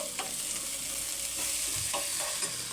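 Turmeric and ginger-garlic paste are fried and stirred in a pan, with a quiet, even sizzle and a few soft scraping stirs close by, no voices.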